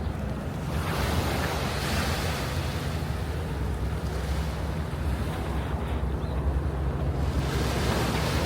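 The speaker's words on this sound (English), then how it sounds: "you could even hear the waves crashing on the shore" Waves wash steadily onto a small beach in DUMBO, Brooklyn, a continuous surf roar with wind buffeting the microphone and no voices.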